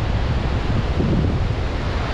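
Waves wash up on Dapoli beach, a continuous loud roar of surf mixed with strong wind buffeting the microphone, no voices heard.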